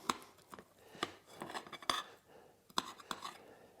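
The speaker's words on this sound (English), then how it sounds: "Chop it up." A knife cuts cooked food into pizza-like wedges on a board outdoors in winter, giving sharp, separate chopping taps at an uneven rhythm, close and fairly quiet.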